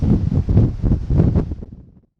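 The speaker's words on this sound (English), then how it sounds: "It's now very windy since we cleared the harbour" Strong wind on a ferry leaving a harbour buffets the microphone in gusty, low rumbling surges before fading out abruptly.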